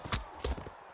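A horse's hooves clip-clop in a video game, giving a few quick, faint, hollow knocks in a short uneven rhythm.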